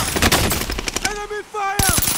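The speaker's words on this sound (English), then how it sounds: "I'm just shooting him a little bit so he come out." Rapid bursts of automatic gunfire in an online shooter match, loud and close, breaking off briefly before another volley, with voices talking over parts of it.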